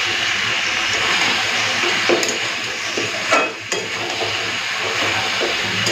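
Mutton braises in a pan while being stirred, giving a steady wet sizzling hiss with scraping, stirring noises and occasional clatters, close and continuous without speech.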